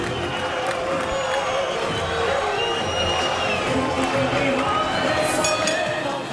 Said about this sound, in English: he's got a little crowd support here, too, a big Armenian contingent.